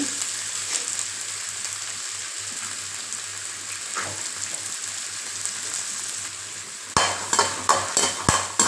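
Chopped turkey berries fry on a low flame in a pan, a continuous gentle sizzle that holds for several seconds, then a run of sharp spoon clicks and scrapes against the pan as they are stirred.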